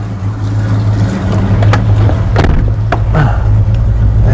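Inside a 1973 Plymouth Duster on the move, a loud, steady low engine rumble with road noise fills the cabin, and a few faint clicks and rattles come through over it.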